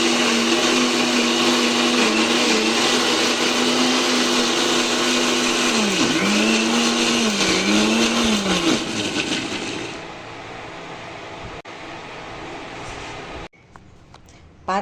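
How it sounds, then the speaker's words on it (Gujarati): A mixer grinder whirs loudly and steadily, grinding fennel seeds, black raisins and almonds for a herbal fennel drink, its pitch dipping in a few pulses before the motor winds down and stops near the end. "શરબતના મિક્સરને 10 થી 15 મિનિટ ગ્રાઇન્ડ કર્યા બાદ"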